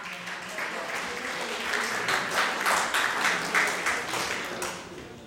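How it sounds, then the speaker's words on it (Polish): Crowd applause swells into a steady patter of many hands clapping, building then tapering off, fairly loud and unaccompanied. "Wielkie brawa!"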